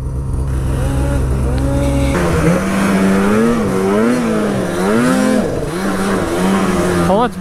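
A snowmobile engine revs hard racing up an icy mountain drainage, a loud, close, continuous whine that rises and falls in pitch as the throttle changes.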